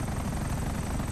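Helicopter in GTA 5 Online, a steady, fairly quiet rotor and engine drone with no distinct beats, continuous throughout.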